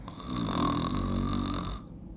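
A human voice imitates a bear snoring while a story is read aloud: one long, rough, rattling snore held for nearly two seconds, close and fairly quiet, then it stops.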